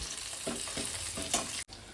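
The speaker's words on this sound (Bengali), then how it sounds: "সেদ্ধ পেঁয়াজটা আমার ভাজা হয়ে গেছে।" Boiled onion fries in a pan for a prawn chaat recipe, giving a steady soft sizzle. A few gentle stirring scrapes come at regular intervals, with no voices.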